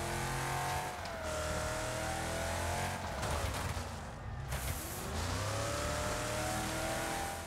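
Race cars in the Wreckfest video game rev loudly and drive continuously, engine pitch climbing and dropping with gear shifts as several vehicles roar close by.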